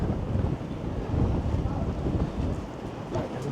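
Strong gusting wind buffets the microphone on a chilly city street in Toronto, a continuous low roaring rumble with no clear speech.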